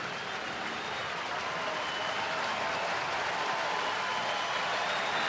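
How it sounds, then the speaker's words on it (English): A baseball crowd in Atlanta applauds with steady, dense clapping and cheering that fills the stadium throughout, with no clear speech over it. "this crowd in Atlanta applauds the effort"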